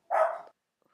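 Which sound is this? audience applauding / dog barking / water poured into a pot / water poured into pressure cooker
dog barking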